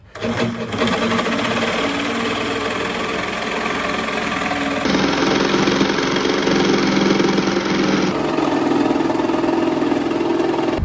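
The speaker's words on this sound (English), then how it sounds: "it's actually lashing it down outside" Steady, dense roar of heavy rain drumming on a camper van roof, loud and continuous with shifting texture, no voices.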